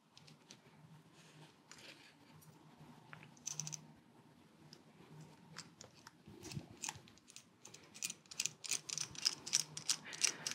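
Small screws being driven to reassemble the plastic shell of a USB HDMI capture dongle, quiet close ratcheting clicks and scraping ticks in irregular bursts, growing busier toward the end.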